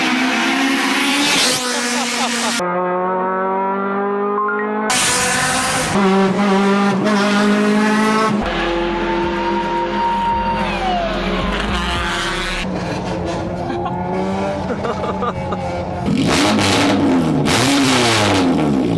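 A Honda Civic sports car revs loudly and repeatedly at close range, its engine pitch climbing and falling in sweeping bursts, with brief harsh roaring peaks and a short deeper rumble midway.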